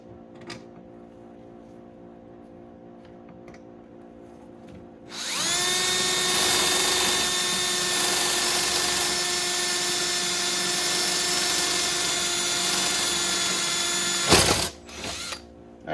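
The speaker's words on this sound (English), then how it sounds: "Now we're drilling another hole with the pilot hole." A power drill spins up with a sharp, high whine and runs steadily for about nine seconds before stopping with a clunk.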